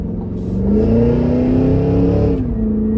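A loud, close 6.2-liter supercharged V8 engine of a 2024 Cadillac Escalade V revving up with a rising whine, holding high for a moment before easing back down.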